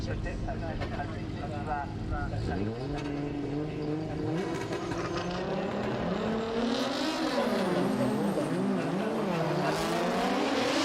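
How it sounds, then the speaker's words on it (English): Formula Drift race cars, a red Toyota GR86 and a green BMW E92, drifting around Ebisu Circuit in Japan: loud continuous engines revving and wailing in rising and falling sweeps, with tire noise, and a commentator talking over them. "Sobagiri in the red GR86 powered by VR, while you have Takahashi in the green E92 BMW VR powered as well."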